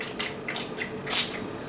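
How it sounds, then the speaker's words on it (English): Essence makeup fixing spray misted in several short, soft hissing bursts, the strongest near the end, close to the microphone with a quiet room behind. "It's a little bit of a wet spray"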